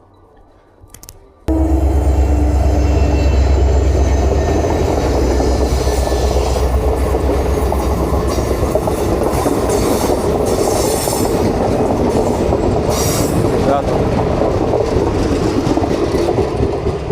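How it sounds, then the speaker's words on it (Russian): A train passes near Denali National Park, Alaska, starting abruptly and rumbling loud and close with steady clattering rail cars and occasional wheel squeal for the rest of the stretch. "Поезда туда-сюда ходят."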